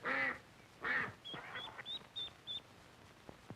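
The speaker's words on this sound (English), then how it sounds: "Mother Duck quacked with excitement." Duck quacking in an old 16mm educational film soundtrack, two loud quacks followed by a run of short, thinner calls, fairly close and clear over a faint hiss.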